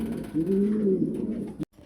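Pigeons at a pigeon farm coo steadily in a low, rolling drone that fills most of the clip, then break off abruptly near the end.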